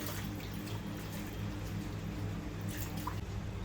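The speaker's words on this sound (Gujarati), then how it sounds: "હવે ધોઈ નાખો અંદર અંદર બોળી દે" Leafy vasati bhaji greens being dunked and swished in a vessel of water, giving a soft, steady wash of splashing and trickling that stays faint and unbroken throughout.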